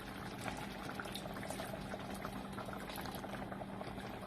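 Pork afritada simmers in a pot after water is added, giving a steady low bubbling and hissing boil with no talking.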